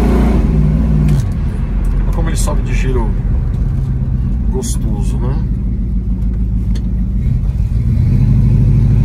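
A 1967 Dodge Dart GT convertible engine is revved, its deep rumbling note climbing and falling in pitch up close while someone talks over it.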